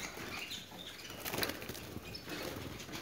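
Small birds flap their wings in a fluttering flurry that runs steadily for about three seconds, close by and moderately quiet, with no talking over it.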